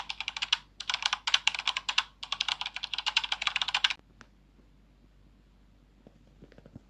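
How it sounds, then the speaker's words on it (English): Apple keyboard typing sound effect added to a PC video edit in CapCut: rapid clustered key clicks in bursts for about four seconds, then near silence with a few faint scattered taps. "Apple typing sound to PC"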